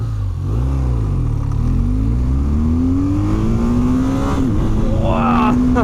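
A 2026 BMW R 12 G/S motorcycle engine revs up under load on an open road, its note climbing steadily and loud and close, with wind rush throughout.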